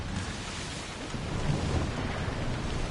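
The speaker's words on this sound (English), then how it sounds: "would you look at that storm?" Storm at sea in Assassin's Creed Odyssey: a dull, steady roar of wind and rain with low rumbling swells, fairly quiet and even throughout, no voices.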